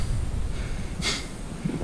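A single short, breathy snort from a human voice imitates a wild boar heard in rough land in Portugal. It is brief and close, with soft noise around it.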